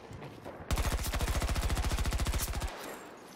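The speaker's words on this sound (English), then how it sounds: "And it's another shotgun." Rapid automatic gunfire in the video game Battlefield 2042, a loud burst of about two seconds of evenly spaced shots after a quiet start, ending abruptly.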